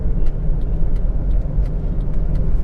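Car driving through city traffic while turning left, a steady low engine and road rumble with faint passing traffic noise, no talking.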